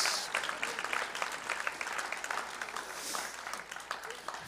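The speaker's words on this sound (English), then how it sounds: "give the Lord one more hand clap of praise" A church congregation claps in praise during a live-streamed service, a fairly faint but steady patter of many hands with uneven peaks, continuing throughout.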